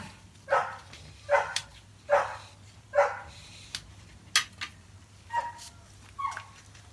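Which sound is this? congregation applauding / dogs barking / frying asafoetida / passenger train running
dogs barking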